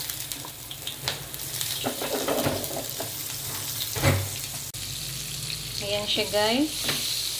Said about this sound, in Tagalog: Hapit na matunaw ang butter.